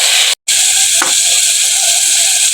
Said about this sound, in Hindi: टमाटरों को मैंने भून लिया है।